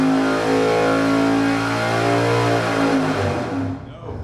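An engine on a dyno revs hard and steadily with two extra degrees of ignition timing, a loud sustained roar that holds high before dropping away near the end.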